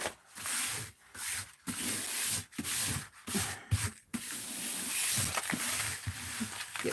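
Someone scrubs built-up gunk off a pin-studded desk surface in short, rough rubbing bursts separated by brief pauses. The scrubbing is close and loud, with no talking.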